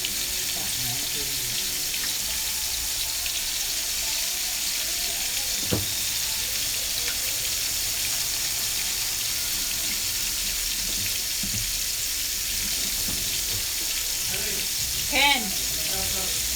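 Tap water runs steadily into a pot in a home kitchen during lunch preparation, a continuous rushing hiss with a few faint clinks and a brief bubbling gurgle near the end, no talking.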